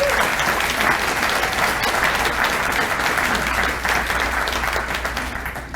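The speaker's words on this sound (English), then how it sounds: "let's give a round of applause for all of our District 196 guests today" A large crowd at a city's State of the City presentation claps steadily and loudly, a dense wash of applause that continues throughout before tapering slightly at the end.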